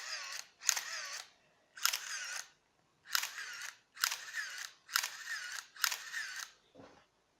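An Olympus OM-1 film camera shutter fires in a series of mechanical bursts, roughly one per second, close and crisp, ending with a short lower clunk.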